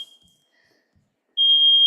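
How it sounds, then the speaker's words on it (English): A house smoke or fire alarm gives off a loud, steady high-pitched electronic tone, starts suddenly after near silence and holds on without a break, with a short faint chirp at the very start. "I'm experiencing a fire alarm on my house that I'm sure will stop momentarily"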